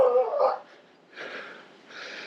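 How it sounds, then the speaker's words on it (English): Big chained dog barking on a Bangkok canal-side walk in Punnawithi, a couple of distinct barks up front followed by softer, more distant yelps, heard alone without talk. "He's barking in the other direction, not at me"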